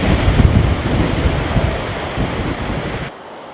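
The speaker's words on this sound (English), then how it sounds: "It is definitely quite blustery out." Strong, gusty wind roars across a canyon hiking trail in Clear Creek Canyon, a loud broadband buffeting rush with low rumbling gusts that eases and drops away near the end.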